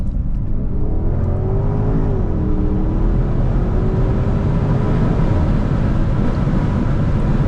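2016 Porsche Panamera Turbo with twin-turbo V8 in its most aggressive drive and exhaust setting, a loud continuous engine and exhaust drone with a rising and falling turbo whistle over strong wind rush, heard from inside the car without talk.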